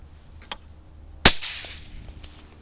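A suppressed .22 rifle fitted with a B&T Tiger or Stealth Additive Works suppressor fires one close, sharp crack that fades into a short tail, preceded by a faint click and no talking.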